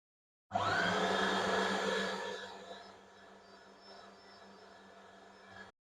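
A kitchen grinder or blender whirs steadily as it minces chicken liver with onion, starting loud and high, then easing into a lower, quieter hum for several seconds before cutting off.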